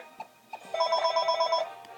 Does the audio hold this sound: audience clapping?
no